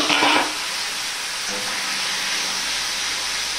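Half-boiled mixed vegetable curry goes into a hot pan with spiced oil, starting with a brief clatter and splash, then settling into a steady, moderately loud hiss of frying.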